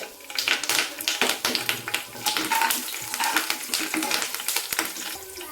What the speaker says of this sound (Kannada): ಕರಿಬೇವು ಹಾಕ್ಕೊತೀನಿ